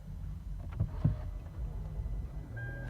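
A 2010 Lexus GX 460 engine catches with a short burst, then settles into a steady, low idle rumble that stays close and even throughout, with no voices.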